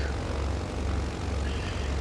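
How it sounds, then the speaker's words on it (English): Twin piston engines of a Britten-Norman Islander drone steadily in flight, a loud, continuous low propeller hum heard from inside the aircraft with no speech. "The other thing is that the engines are a little loud, so you have to monitor your volume. But I really like the sound of these engines."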